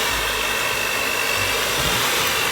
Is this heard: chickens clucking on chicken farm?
no